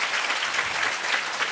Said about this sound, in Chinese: 我们再用一次掌声感谢彭批